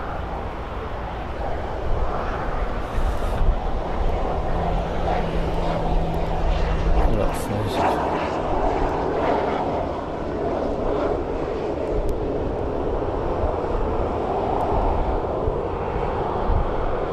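A small general aviation plane at Birmingham Airport drones steadily with a broad engine roar, holding at a fairly constant level across the whole stretch with no voices.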